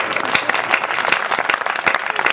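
An audience at a Hindi poetry recital claps loudly and continuously, a dense and even roar of many hands filling the room with no break.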